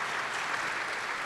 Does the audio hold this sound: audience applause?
yes